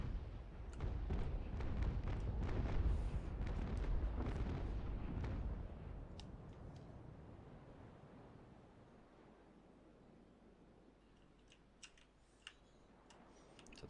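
A Naval Action sailing ship fires a cannon broadside, a rolling series of heavy booms that thunder and then fade into a long low rumble with scattered faint ticks.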